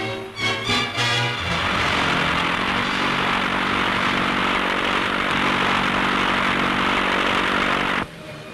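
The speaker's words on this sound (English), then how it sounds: "Planes going out, planes coming back to refuel." Fighter aircraft engines roar loudly and continuously during a wartime air battle over the Dieppe raid, a sustained droning rumble with a few brief sputtering bursts at the start before it cuts off sharply.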